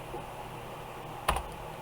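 Computer keyboard typed during a college algebra lesson, a brief burst of faint clicks standing out from a quiet room.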